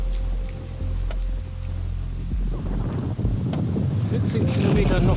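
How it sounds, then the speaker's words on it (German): Wind buffeting a cyclist's microphone during a 200 km Audax brevet, riding fast with a tailwind: continuous heavy low rumble and gusty roar that swells toward the end, with no voice over it. "14 Kilometer noch den Wind von hinten."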